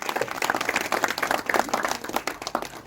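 An audience gathered over a Garhwali film applauds to welcome Uttarakhand composer Rajendra Chauhan, giving a brisk burst of dense, close hand clapping throughout.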